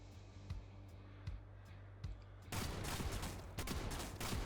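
A pocket cannon fires in a video game, a few sharp isolated reports at first, then a dense burst of rapid blasts that keeps going loud and close.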